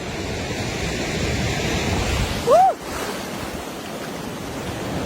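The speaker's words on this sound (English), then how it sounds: "The waves are really great." Steady rushing surf at a beach in Bali fills the scene, broad and continuous, with a brief high chirp rising and falling partway through.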